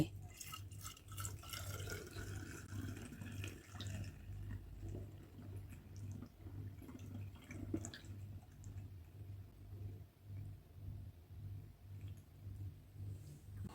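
Homemade roselle wine poured from a bucket into bottles, a thin steady trickle and drip of liquid with small clicks of glass, soft and close under a low constant hum.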